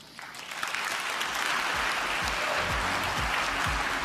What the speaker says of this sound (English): another big round of applause for Mr. Mayor Bill de Blasio.